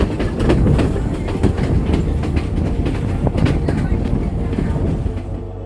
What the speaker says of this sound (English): The train ride was a journey to remember